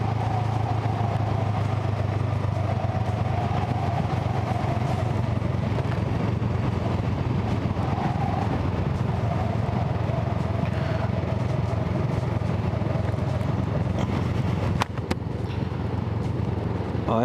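An adventure motorbike rides through a nature reserve in Oman, its engine a steady, close droning rumble that runs unbroken from start to finish, with a brief clatter near the end and no talking.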